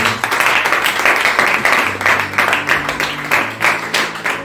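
Church congregation clapping to acclaim the Lord, a dense, continuous wash of many hands at steady loudness, with a faint low musical hum and a few voices mixed underneath.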